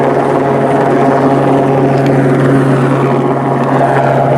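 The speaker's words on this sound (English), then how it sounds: "Helicopter circling around again." A Los Angeles Police Department helicopter circling overhead thrums loudly and continuously, a deep steady drone with a rapid chopping pulse that never fades.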